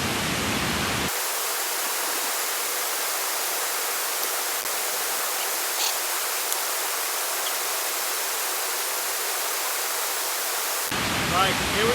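Water in a stream near the summit of Great Whernside in the Yorkshire Dales, collected for a wild-camp dip, gives a steady broadband rush that holds unbroken for about ten seconds, bracketed by handling noise at start and end.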